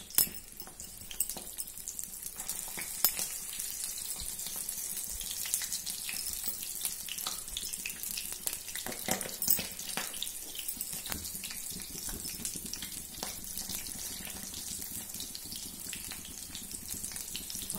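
Potato and taro leaf rolls frying in hot oil, giving a steady close sizzle and crackle with faint pops that runs unbroken for the whole stretch, with no talk over it.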